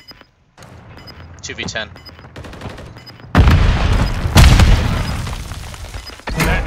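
Gunfire in Call of Duty Modern Warfare 3 hardcore Control mode: scattered shots early, then heavy sustained loud bursts and booms in the second half, with a brief spoken callout over it.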